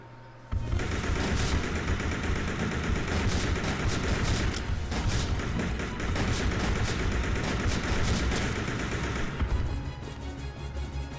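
Rapid gunfire from Resident Evil Survivor 2, a loud sustained burst of automatic shots that starts abruptly and runs for about nine seconds before easing off.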